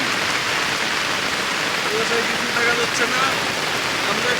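Heavy monsoon downpour on an empty road, a steady dense hiss of rain close by with no pauses.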